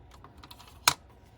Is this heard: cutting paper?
yes